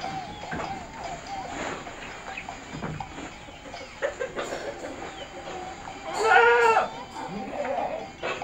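A goat on a small farm gives one clear, wavering bleat partway through, nearby, set against a busy background with other animal calls and people talking.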